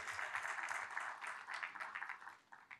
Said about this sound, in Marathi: सो ITDPसाठी सुद्धा एकदा टाळ्या होऊन जाऊ देत